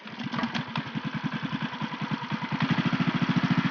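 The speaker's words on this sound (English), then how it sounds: "And you can hear it rev to max RPM." A small mini-baja off-road kart engine revs hard toward maximum RPM, a loud, close, steady pulsing buzz that climbs in rhythm and intensity over a few seconds, with no talking.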